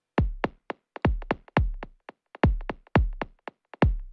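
Electronic kick drum with a triplet-timed delay and a filter, punchy booming hits, each followed by quieter echoing repeats that form a rolling, syncopated pattern, loud and dry, no voices.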